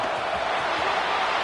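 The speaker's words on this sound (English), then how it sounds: "And here comes the noise. This crowd is trying to inspire this defense to make a big red zone stop." Stadium crowd roars in a college football video game as North Texas faces Notre Dame in a playoff game, fans urging on a red-zone defensive stand; a steady, dense wall of noise with no break.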